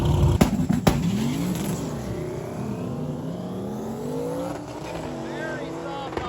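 A drag race car at a drag-and-drive event makes a pass down the strip: a loud, sustained engine roar with rising and shifting pitch, heard up close, with voices underneath.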